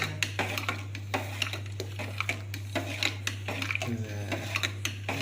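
Food being stirred in a cooking pot in a home kitchen late at night, a steady run of scraping, clinking strokes against the pot over a constant low hum, no talk.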